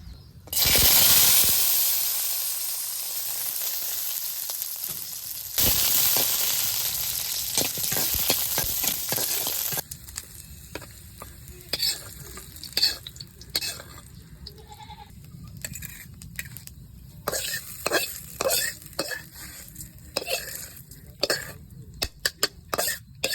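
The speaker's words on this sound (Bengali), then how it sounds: "দইনা পাতা বাজা হইতেছে" Coriander leaves and dried river fish fry in a pan with loud, dense sizzling that gradually settles, followed by scattered scraping and clinking of stirring against the pan.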